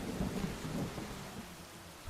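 A video game thunderstorm gives steady rumbling thunder over a wash of rain, with swells near the start and a loud burst at the end. No one speaks.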